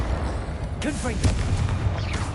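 A Confringo spell goes off in the Hogwarts Legacy video game, a deep rumbling blast low in the mix that rolls on beneath overlapping game noise, with a whooshing burst partway through.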